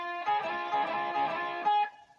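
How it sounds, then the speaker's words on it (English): A short blues guitar lick, a distorted note sliding up to the fifth and catching the flat seven, sustained for about two seconds before fading, played alone and close. "you're taking a half step back and you're sliding back up to the fifth and catching that flat seven each time you do it"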